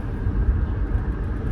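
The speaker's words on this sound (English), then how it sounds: "there's a lot of cars" A low, steady rumble of car traffic in a busy downtown area, heard from inside a moving car, with no clear passing vehicles standing out.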